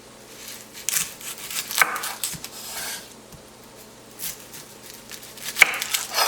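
Jalapeno peppers being chopped for chili, a series of irregular knife strikes and cuts on a board, fairly close and moderately quiet, with no talking.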